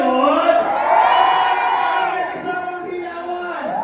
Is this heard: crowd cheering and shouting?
yes